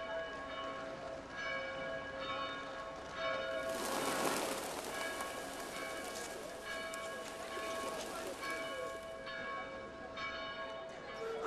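Church bells ring out across Dubrovnik, sustained overlapping tones swelling to a loud peak midway, set against a constant outdoor wash of noise.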